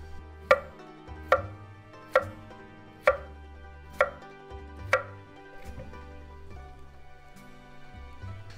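A knife chops through zucchini on a cutting board in six sharp, evenly spaced strokes, each one clear and close. Steady background music plays underneath, and no one speaks.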